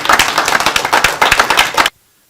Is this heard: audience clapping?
yes